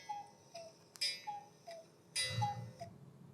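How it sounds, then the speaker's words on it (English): A Pixel 7 Pro phone alarm set to its cuckoo clock tone: soft repeated two-note cuckoo calls with faint clock ticks, fairly quiet and with no talking. "I'm just going to go back and change this to the cuckoo clock."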